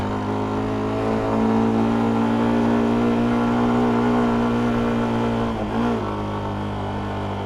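A CFMOTO 300SR motorcycle climbing uphill in first gear holds a loud, steady engine drone with a strong tonal whine, then dips briefly near the end before settling again; no one speaks.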